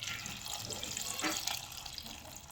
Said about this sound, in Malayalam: ഇനി പാകത്തിന് വെള്ളം ഒഴിച്ചു കൊടുക്കുക.